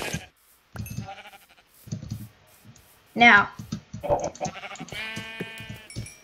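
Sheep in the Minecraft video game bleat in a couple of short wavering calls amid intermittent game clicks, with a person talking between the sounds.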